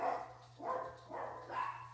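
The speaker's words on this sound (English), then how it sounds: "my dogs are excited about that." Several dogs barking indoors, three quiet barks spaced evenly about half a second apart over a steady low hum, no talk.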